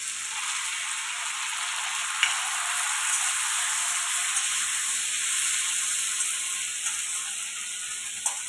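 Pumpkin dish sizzling in a pan as a little tomato goes in, a loud, steady hissing fry with a couple of sharp clinks, close and without speech.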